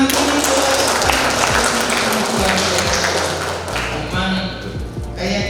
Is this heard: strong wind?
no